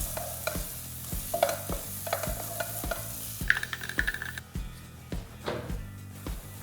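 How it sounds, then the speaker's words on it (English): Egusi soup fries in a pot with a soft, constant sizzle while a spoon stirs it, scraping and knocking against the pot in a steady rhythm of about two strokes per second, close and moderately quiet. "You just keep frying this for maybe another 5 minutes, stirring occasionally so it doesn't stick to the bottom of the pot."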